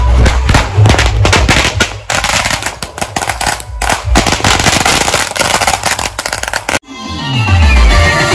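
Firecrackers burst at a Ganpati immersion procession, loud rapid crackling strings of pops and bangs that rattle on for several seconds before cutting off, followed by a whistling rocket rising.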